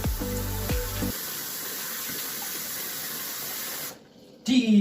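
Steady broadband water spray runs while hair is being washed, a continuous hiss that briefly drops out near the end before returning; a few tonal sounds open the stretch.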